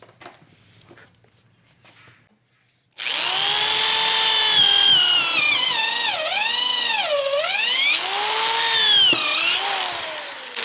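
A Hyper Tough corded drill with a 3/8 inch bit bores into a thick wooden section, a loud sustained motor whine that sags and recovers in pitch as it bogs under load, after a few seconds of quiet.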